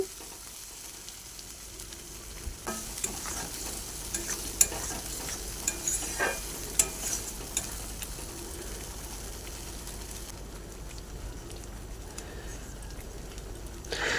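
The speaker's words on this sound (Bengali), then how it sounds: "আবারও ভালো করে আমি পেঁয়াজটাকে মিক্স করে ভেজে নেব বা সিদ্ধ করে নেব।" Chopped onions frying in a pan, stirred with a spoon, give a low continuous sizzle broken by irregular scraping clicks of the utensil, fairly quiet and close, with faint birdsong in the background and no speech.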